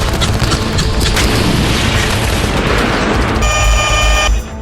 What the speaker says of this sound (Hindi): रूसी सेना ने कुर्स्क में यूक्रेनी ठिकानों पर ग्रेड MLRS से जबरदस्त हमले किए।